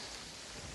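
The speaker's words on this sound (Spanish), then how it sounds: "Esta lluvia ataca recién." Steady rain falling in Terraria, a continuous soft hiss with no other sounds over it.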